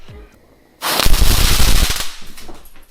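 A cluster of roman candle fireworks glued to a drill fires all at once, a sudden loud, dense burst of crackling bangs and whooshes lasting about a second before tailing off into a softer rumble.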